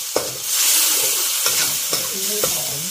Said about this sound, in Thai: ผัดไปให้หอมเลยนะคะ